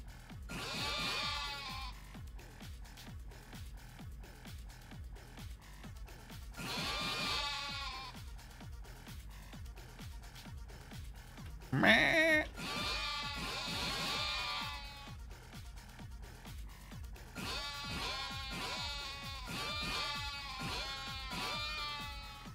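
Goats in the video game Yakuza: Like a Dragon bleat loudly again and again in long wavering cries, coming in bursts with short gaps between them and one sharp, loud call midway.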